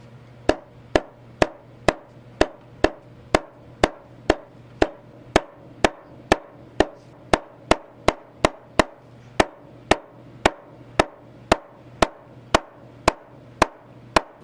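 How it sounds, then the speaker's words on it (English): Steady, evenly spaced hammer blows, about two per second, flatten a sewn buffalo-hide leather seam for a motorcycle seat at close range, with sharp, crisp knocks and no talking. "Once the seam was sewn, I flattened it with a hammer."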